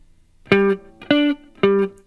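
Three short, sharp electric guitar notes ring out alone at a steady pace in a riff, the third note of the pattern skipped, each attack bright and quickly decaying.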